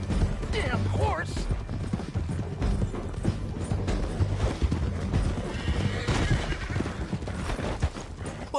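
A horse whinnies and its hooves clop in a PS4 video game, heard amid game voices, music and mechanical sound effects.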